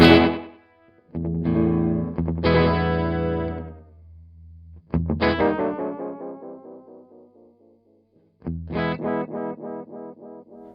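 An electric guitar plays through a Universal Audio UAFX delay and reverb pedal, giving several chords and phrases with long, decaying repeats and a wide modulated tail, each phrase fading into silence before the next.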